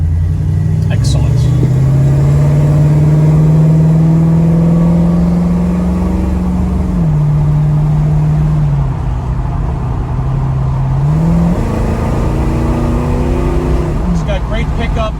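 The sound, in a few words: 1968 Ford Mustang engine revving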